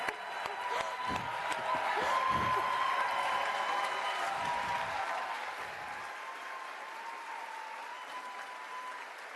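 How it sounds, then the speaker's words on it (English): A large audience at the World Food Day closing ceremony applauds a guest coming on stage, fairly distant clapping that swells and then thins out and fades toward the end. "applause."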